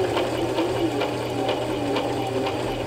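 Sewing machine (LX3817) stitching back and forth to secure a button, a loud close mechanical whir with a rapid rhythmic pulsing beat, no talking.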